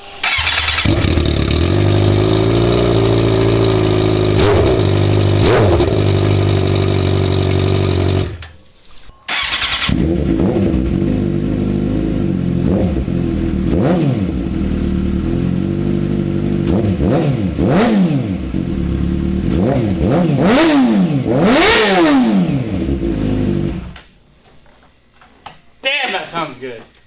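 A Gixxer 600 motorcycle from 2006–07, fitted with a carbon fiber M4 muffler on the stock header, idles loudly and blips through repeated sharp revs, cutting out briefly before restarting, then dies away near the end.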